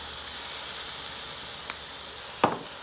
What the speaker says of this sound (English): while our eggplant's sauteing up in the pan with all those flavors